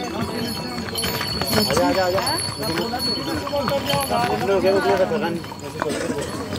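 Horses clip-clop along a busy pilgrimage path at Kedarnath, their hooves tapping in irregular rhythm amid a crowd's steady chatter and nearby talk, fairly close and continuous throughout.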